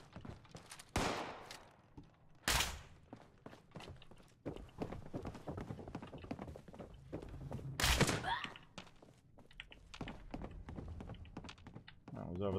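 A few sharp, loud gunshots, well spaced apart, from the Fallout 76 video game, with footsteps and thuds between them and someone talking in between.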